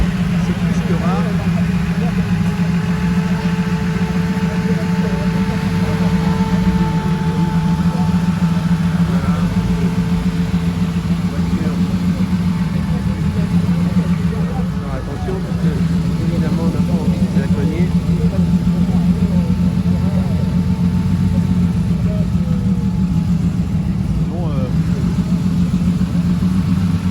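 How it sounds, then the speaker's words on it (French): A Lamborghini 400 GT 2+2, a rare classic car, idles and maneuvers with difficulty into a parking spot at a vintage vehicle gathering on Place St Louis in Versailles, with a steady deep engine hum under continuous speech. "magnifique Lamborghini 400 GT 2+2. Voilà, qui se gare avec un peu de difficulté, mais il va y arriver."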